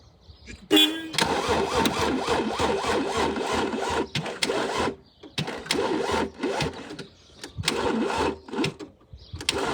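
A car engine cranks repeatedly in bursts, the starter churning loudly for a second or two at a time with brief gaps between attempts, failing to catch.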